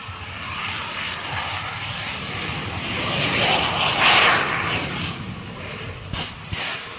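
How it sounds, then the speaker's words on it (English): A CF-18 Demo Hornet fighter jet flies a low, high angle-of-attack pass at an airshow, its engine roaring steadily and swelling to a peak as it passes, then easing off. "the Demo Hornet experienced a loss of thrust from its right engine while conducting a high angle of attack pass at 300 feet"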